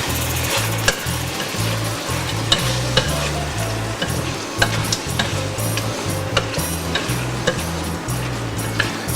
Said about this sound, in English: So this is going in. All of that. And we'll give this a stir.